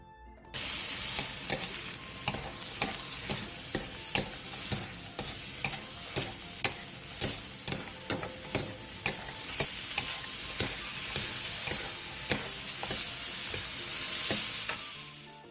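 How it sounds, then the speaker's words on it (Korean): A Korean side dish stir-fries on medium-low heat with soju, soy sauce, oyster sauce, plum extract and sugar: a constant bright sizzle with regular, rhythmic spatula clicks and scrapes against the pan. "중약불로 줄여 2분에서 3분 정도 더 볶아주세요"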